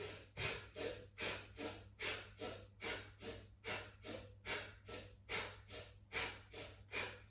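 Rapid, forceful rhythmic Bhastrika bellows breaths in yoga pump in and out about twice a second, each a sharp airy huff, close and steady with no talking.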